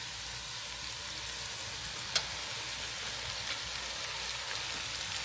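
Carrots and onions cook alongside chicken in a single pot, producing a constant even sizzle like light rain, up close and unbroken apart from one sharp tap, with nobody speaking.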